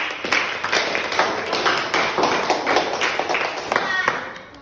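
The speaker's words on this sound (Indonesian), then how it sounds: "kita tepuk tangan" Classroom students clap their hands together in a lively, slightly uneven patter of individual claps, fairly close and continuing steadily for several seconds.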